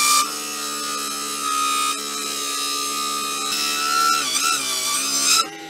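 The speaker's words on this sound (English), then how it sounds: "always be careful as well when you're using power saw" A power saw runs steadily with a bright, sustained whine that dips and wavers as it cuts through wood, ending abruptly.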